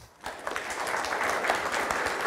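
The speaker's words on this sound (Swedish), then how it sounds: "Och en varm applåd" An audience gives warm applause after a lecture on Blekinge's borders: steady, dense clapping from many hands that swells after a quiet start and holds throughout, with no talk over it.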